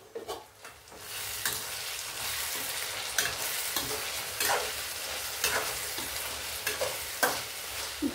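Tomato and eggplant curry sizzling in a pan, a steady close frying hiss broken by repeated scraping strokes of a spoon stirring, with no voices.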